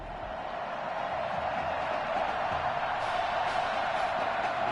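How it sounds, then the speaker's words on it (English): A stadium crowd in the football video game Madden NFL 21 roars in a steady, continuous wash of cheering noise that stays loud and even throughout. "the crowd is loud and on its feet as Alan Myers gets things started"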